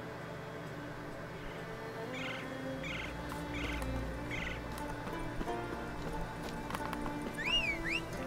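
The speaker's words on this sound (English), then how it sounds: "Horsey!" A horse in a video game clip-clops and snorts over a quiet background, with faint bird calls and a brief whistling chirp near the end.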